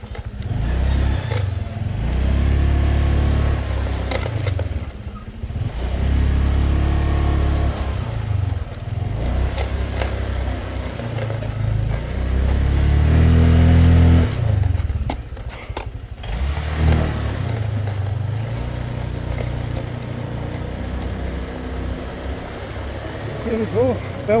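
A motorcycle rides down a rocky path toward Belmar Beach in the Philippines, its engine rumbling and revving unevenly with bumps and clatter, while someone talks over it.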